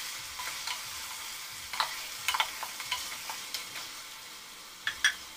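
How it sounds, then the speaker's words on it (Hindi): Mutton fries in a pan with a soft, continuous sizzle, while scattered scrapes and clinks of stirring rise above it, two of them sharper near the end. "इसे थोड़ा सा हम तल लेंगे"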